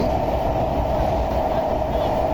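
Steady, dense rumble of the Nakshikatha passenger train running nearby in Bangladesh, with a constant low drone and a faint tonal hum, loud and unbroken.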